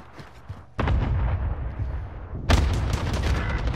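Cluster grenade blasts in a shooter video game, two heavy booming explosions close together, each followed by a rumbling roar that fills the rest of the moment, no talking.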